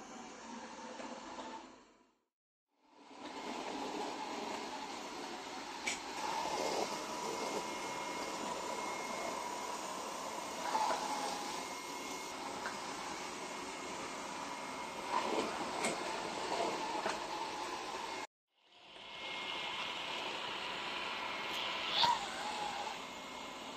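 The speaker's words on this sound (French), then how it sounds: "Je viens de le passer en puissance d'aspiration maximale. Voilà donc ce que vous pourrez entendre à pleine puissance." A Yeedi 2 Hybrid robot vacuum cleaner running at maximum suction, a steady loud whirring drone that holds for about twenty seconds, broken by two brief drops to near silence.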